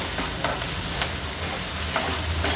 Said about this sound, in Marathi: आता कांदा तेलावर छान शिजवून घ्यायचा आहे आपल्याला